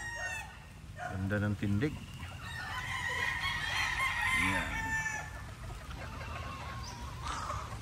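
White claret gamefowl roosters on a rainy farm crow and cluck nearby in repeated bursts, with someone talking quietly over them.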